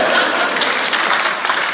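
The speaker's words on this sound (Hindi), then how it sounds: "ऐसी ताली बज गई जैसे आप में से कुछ लोगों ने बजाई" Audience applause at a Hindi comedy poetry recital (hasya kavi sammelan), a dense, steady patter of many hands clapping that fills the whole moment without a break.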